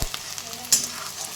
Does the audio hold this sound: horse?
no